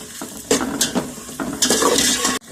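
Onions sizzling in hot oil in a pan while cooking Kabuli pulao, with stirring and scraping of a spoon against the pan, the frying hiss close and steady.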